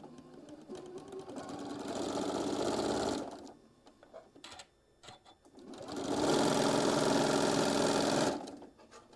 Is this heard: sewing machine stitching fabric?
yes